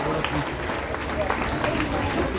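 Applause at a public ceremony in Bhangrotu honoring a government minister, a dense crowd clapping that runs throughout and blends with background noise and voices.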